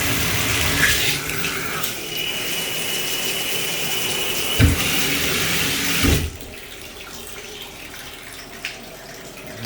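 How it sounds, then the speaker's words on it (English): Water from a shower runs steadily in a bathroom during a move-in inspection, a loud constant hiss for about six seconds that then drops to a quieter trickle with a few small knocks. "Set the shower now."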